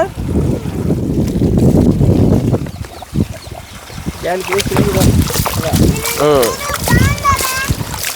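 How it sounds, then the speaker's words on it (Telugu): Strong wind buffets the microphone in heavy gusts, especially at first, as people, including a child, talk over the rushing noise in an open field of tomato crops. "ఇక్కడ గాలి ఎక్కువ"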